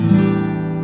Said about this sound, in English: we're just going to strum all six strings